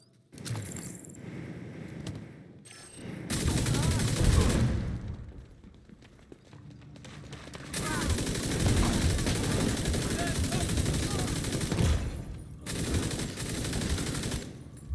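Explosive-round gunfire in a shooter video game, with rapid automatic bursts repeating across the clip that are loud and dense, separated by short quieter gaps.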